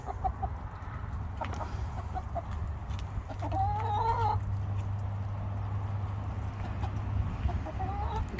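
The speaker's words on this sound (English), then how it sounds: "Greedy chickens." Chickens cluck softly in the background over a steady low hum, with a brief clearer burst of clucking partway through.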